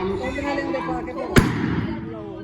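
A single sharp firecracker bang cracks out partway through, over a steady murmur of voices and background noise, at a Gurpurab celebration in a village.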